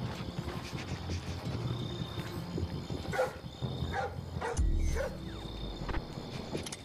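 A dog in the stealth game Splinter Cell Blacklist barks and yips a few times, mid-distance, over steady game ambience with a low rumble.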